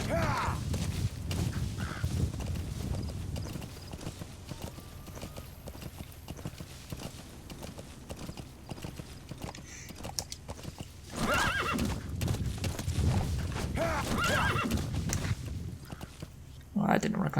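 Horse in Metal Gear Solid V: The Phantom Pain, with steady clip-clop hoofbeats and a couple of whinnies, the hooves trotting through most of the stretch and a louder burst of movement later.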